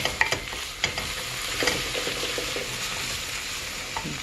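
A spoonful of hot pepper paste sizzles and fries in a pan while being stirred, a close, steady sizzle punctuated by sharp scraping and clicking strokes.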